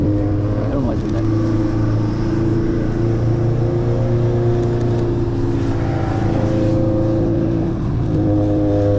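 A race car engine revs and accelerates steadily on a racetrack, a loud continuous whine rising in pitch, with voices talking underneath.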